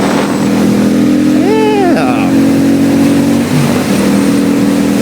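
A 2002 Suzuki VS800 Intruder motorcycle engine idles loudly and steadily close by, then revs up in one quick rising and falling blip before settling back to idle, with a brief spoken word over it.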